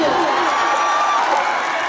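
A loud audience at a Mithila Vibhuti Parva stage event in Darbhanga claps in a dense, continuous wash of applause, with crowd noise and a voice mixed in.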